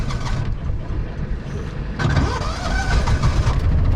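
Kawasaki Mule 650 utility vehicle engine cranking and catching on a dairy farm, a sputtering start that settles into a louder, steady running engine close by.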